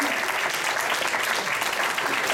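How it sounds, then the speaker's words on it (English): Audience applause at a pre-college jazz concert, a steady dense wash of many hands clapping throughout, fairly close and even in level. "Have a round of applause for Trey Pisano on the bass."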